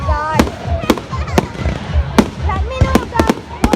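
Fireworks bursting at a huge crowded display, sharp bangs and crackles in an irregular rapid sequence, with people talking and exclaiming throughout.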